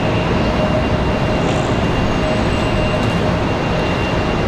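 A Southwest Airlines plane arriving at Raleigh Durham International Airport, its roar a loud, steady broadband rumble that holds for the whole stretch, with faint tonal whines riding on top.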